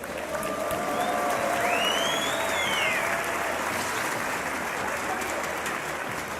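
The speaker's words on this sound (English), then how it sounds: "Make some noise for Stardust" A large crowd at a StarCraft 2 tournament, a DreamHack event, cheers and applauds in a steady, dense roar that carries through the whole stretch, with a few whistles rising over it.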